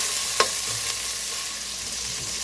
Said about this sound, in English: I'm going to stir this around to infuse the flavor in the pot